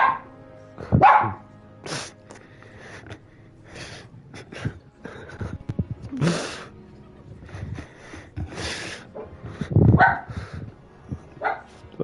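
A dog barks in short, loud bursts, mixed with yips and whimpers, in the Hogwarts Legacy video game. The barks are spaced unevenly across several seconds, with game sounds and a little speech between them.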